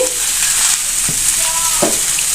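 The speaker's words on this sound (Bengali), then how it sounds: "এবার আমি কয়েক টুকরা দারুচিনি দিয়ে দেবো এবং চারটা এলাচ দিয়ে দেবো এলাচটা আমি ফাটিয়ে নিয়েছি" Cinnamon stick pieces and four cracked cardamom pods frying in hot oil for olive pickle make a loud, steady sizzle, with a couple of brief knocks and crackles as the spices go in.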